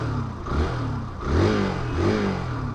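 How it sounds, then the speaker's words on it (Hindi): A 2023 Hero Xtreme 160R 4V Pro 160cc motorcycle engine revs in repeated throttle blips, its note rising and falling in about three swells, loud and close with no talk over it. "तो काफ़ी स्पोर्टी है एक्चुअली साउंड, और थॉटेल का रिस्पांस भी ना काफ़ी बढ़िया है गाइस"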